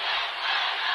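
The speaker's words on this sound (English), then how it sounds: "The crowd is getting into it now." A basketball crowd cheers in a school gym during a boys' high school super sectional game, a loud, steady wash of roaring voices with no break.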